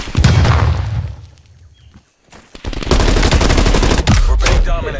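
Gunfire from the video game Call of Duty: Black Ops Cold War, loud rapid bursts of shots and booms that fade into a brief lull near the two-second mark, then resume in dense volleys through the rest of the clip.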